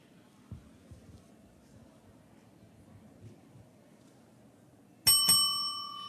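A bell rung sharply once at a community reading challenge, a bright ringing strike that decays slowly after a quiet stretch of faint room murmur.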